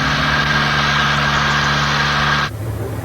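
Engine of an army training aircraft running at steady power, a loud continuous drone with a bright whine that drops in pitch and level near the end, with no talk over it.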